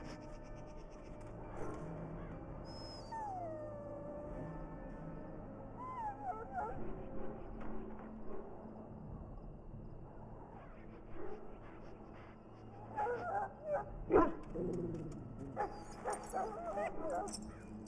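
A dog in a pen whimpers and gives a few soft barks and yips in a Dragon Age: Origins game scene, faint and intermittent over quiet ambient music and background sound, with brief voices nearby.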